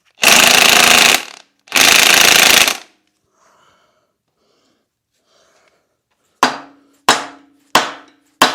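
Hammer blows on a Volvo engine during a motor teardown: two long, harsh grinding bursts, a quiet pause, then four sharp, ringing metallic strikes spaced about half a second apart, close and loud.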